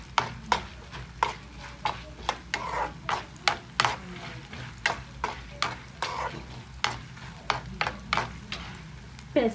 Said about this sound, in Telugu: కొంచెం ఫ్రై అయ్యాక పచ్చిమిర్చి కూడా వేసేసుకుందాం.